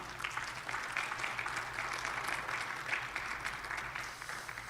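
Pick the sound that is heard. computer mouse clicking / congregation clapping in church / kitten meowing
congregation clapping in church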